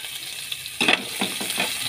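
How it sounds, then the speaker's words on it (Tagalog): Onion and garlic sautéing in a pan, a soft steady sizzle that swells into louder bursts of frying with a few stirring scrapes partway through, close by and without talk. "Tayo po ay magigisa muna ng sibuyas, bawang."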